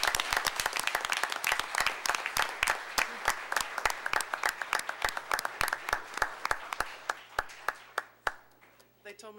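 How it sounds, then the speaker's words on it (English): An audience at a city commission meeting breaks into applause, with dense, rhythmic clapping that fills the room and gradually thins to a few scattered claps before fading out. "I think she deserves another round of applause for this"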